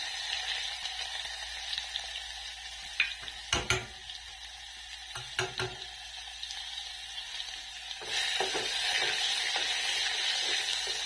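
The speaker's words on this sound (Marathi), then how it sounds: "लसूण टाकू आता लसूण भरपूर टाकायचं म्हणजे भाजी छान लागते" Garlic frying in a pan of oil with cumin and mustard seeds for a leafy vegetable dish, giving a steady soft sizzle with a few sharp clinks of a utensil against the pan partway through and a louder burst of sizzling near the end.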